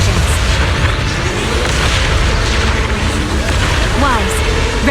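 Deep, heavy booms from combat in the video game Zenless Zone Zero roll on without a break through a loud, busy soundscape, with brief voice-like swoops near the end.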